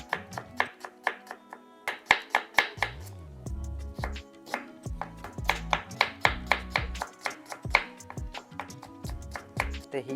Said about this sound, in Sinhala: දැන් මම ලුණු එක කට් කරගන්නේ මැෂින් එකේ